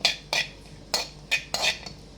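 A spoon stirs cashews, raisins and almonds frying in ghee for shavige payasa, making about five short scraping, clinking strokes against the pan, close and fairly quiet with no talking.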